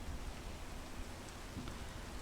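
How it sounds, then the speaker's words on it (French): Rain falling in the mountain video game PEAK, a steady, soft hiss with a low rumbling undertone that continues evenly throughout, without any talking. "Bon, il pleut."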